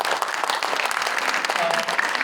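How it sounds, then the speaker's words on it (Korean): Dense, steady applause from a seminar audience filling the room, many hands clapping at once, loud and continuous throughout with no break. "박수 부탁드립니다"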